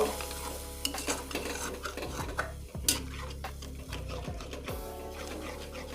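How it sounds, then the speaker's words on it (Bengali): A masala mixture with yogurt being stirred in a pan for an egg korma, with a spoon scraping and knocking against the metal in an uneven rhythm over a soft sizzle, close and fairly quiet. "দেওয়ার পরে এই মিশ্রণটা আমি ভালো করে নাড়ব"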